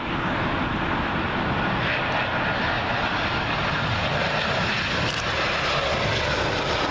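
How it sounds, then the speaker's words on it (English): Steady, loud jet engine roar of a British Airways Airbus A320 from Manchester on final approach to Heathrow runway 27L, filling the whole moment without a break and without voices. "British Airways A320. This one has arrived in from Manchester"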